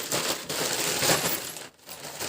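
A dense rattling clatter of many small hard items pouring out of an AliExpress package together, steady and close, pausing briefly before a final spill.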